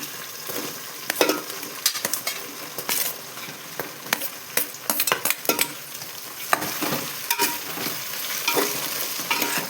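Sliced onions and green chillies frying in oil, a crackling sizzle punctuated by repeated sharp scrapes and clinks of a spatula against the pan, irregular and close.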